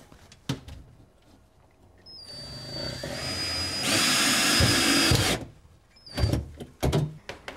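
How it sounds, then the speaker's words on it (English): A power drill drives a screw through a cabinet's top board into a wall stud during cabinet installation, a rising whir building over a few seconds and then cutting off, with tool handling knocks before and after. "I'm gonna put the screw through this top board right here for extra support."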